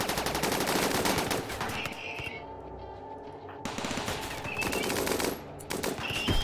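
Turret gunfire in RimWorld, in an extreme desert setting: dense rapid automatic bursts rattle in two long stretches separated by a brief lull, loud and continuous, with faint game effects between.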